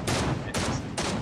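Rapid bursts of gunfire in the battle royale game Fortnite, dense continuous rattling shots in three loud clustered volleys over a short span, no talking.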